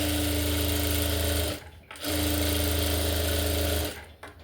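A sewing machine stitches a blouse lining in two steady, close, whirring runs separated by a short pause, with no one talking.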